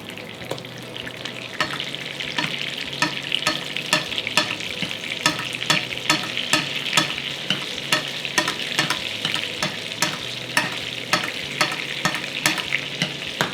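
A breaded chicken breast cutlet fries in butter in a pan, a continuous close sizzle punctuated by frequent sharp clicks and scrapes as the fat is spooned and the pan handled, with no talking.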